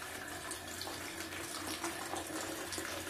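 Wort runs out of a mash tun during batch sparging for a pale ale, a steady faint trickle and splash of liquid pouring continuously into a vessel.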